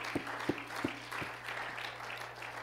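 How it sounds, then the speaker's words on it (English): Church congregation giving a hand clap of praise, a few distinct claps at the start, then a softer, scattered round of clapping in a reverberant room. "Let's give the Lord a hand clap of praise."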